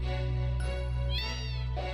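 Cats meow repeatedly in Final Fantasy VII, with several clear meows over a steady low game hum and background music.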